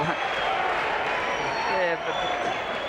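A crowd cheers and applauds with a broad, steady roar at a 1993 Australian football match between NTFL and Melbourne, while commentators talk over it.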